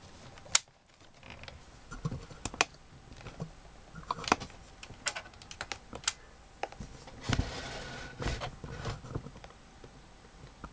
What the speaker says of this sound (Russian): Включаем ноутбук.